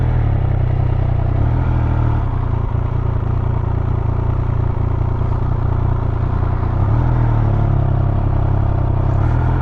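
A Triumph Speed Triple 1200 rides at low speed, its engine a steady loud drone with deep low rumble and wind-buffeted roar throughout, rising slightly near the end.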